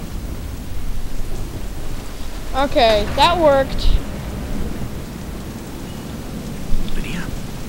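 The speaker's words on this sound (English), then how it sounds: "Damn storm." Steady rain and low rolling thunder from a thunderstorm in the Deadlight video game demo hiss and rumble throughout at an even level, while a player speaks briefly over it.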